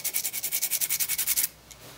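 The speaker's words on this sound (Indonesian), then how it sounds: "kita amplas" Sandpaper rubbed back and forth over a part's blunt edge, about fourteen quick rhythmic scratchy strokes close up, then stopping abruptly; no talking.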